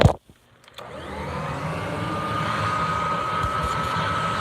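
A Kirby 560 vacuum cleaner with its hose attached runs loud and steady in a basement, a short clunk and brief quiet giving way to a sustained motor whine with a rising tone.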